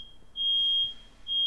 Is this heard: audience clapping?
no